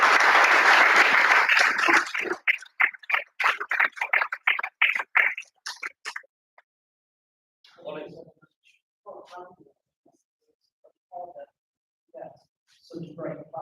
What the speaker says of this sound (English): put your hands together for Ollie, please